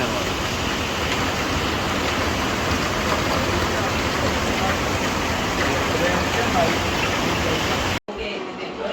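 Heavy rain pours in a constant, loud hiss and roar that cuts off abruptly near the end into quieter noise.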